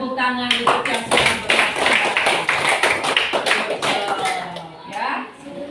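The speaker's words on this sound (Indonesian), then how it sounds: "tepuk tangan untuk yang sudah" Classroom applause for students in a coding and artificial intelligence lesson: a sustained burst of many hands clapping for several seconds, loud and close, with a voice speaking over it.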